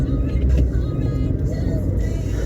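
A car drives along, heard from inside the cabin as a steady low engine and road rumble with slight fluctuations and no distinct events.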